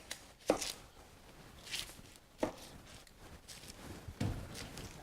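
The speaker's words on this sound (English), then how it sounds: "Dicing an onion." Knife cutting the end off an onion on a board, a few sharp chopping knocks spaced apart, close and fairly faint against a quiet kitchen.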